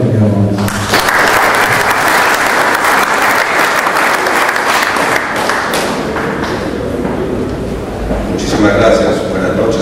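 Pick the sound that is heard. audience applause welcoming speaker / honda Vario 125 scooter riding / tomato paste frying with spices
audience applause welcoming speaker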